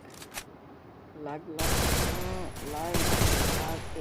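Rapid bursts of P40 gunfire from a video game, loud and repeated in quick volleys, with a voice talking over the shooting.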